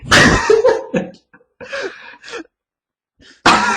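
Several bursts of coughing mixed with breathless laughter, close to the mic, separated by short silences.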